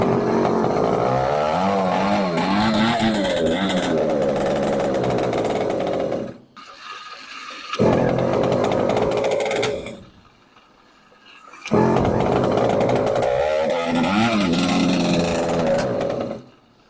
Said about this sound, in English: It's backfiring like crazy.